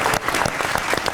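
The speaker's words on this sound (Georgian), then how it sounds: "და თუ კი აპლოდისმენტები მაროს." A short, dense burst of studio audience clapping on a talk show, applauding Maro, an actress from the series "Mikho and Maro".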